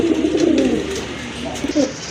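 Grizzle pigeons in a pen give low, throaty cooing in rolling bursts, fairly close and steady, with a couple of louder coos near the end.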